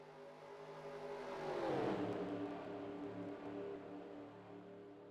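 Pack of NASCAR stock cars at Daytona Super Speedway in a racing video game, a continuous layered engine drone that swells as the cars pass closest near the middle, then settles into a steady roar.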